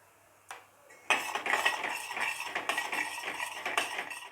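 A metal spoon stirs coriander-cumin powder into spices in a pan, a soft tap followed by steady scraping and clinking that keeps an uneven, busy rhythm close by.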